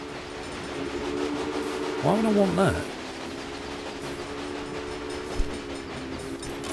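A train rumbles along a track in the Railway Empire video game with a steady mechanical drone and a brief rising horn-like tone, while someone talks over it.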